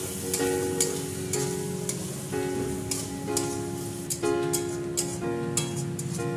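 Spice masala sizzles in a pan with water and salt for chicken and potato curry, a continuous close frying hiss broken by repeated scraping strokes of a spatula in an uneven rhythm.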